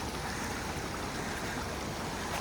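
A trail stream flows with a steady, broad rushing wash of water that holds an even level throughout, close by, with no voices.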